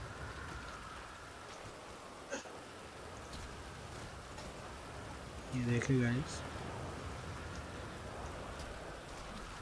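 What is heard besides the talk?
heavy rain in the video game GTA V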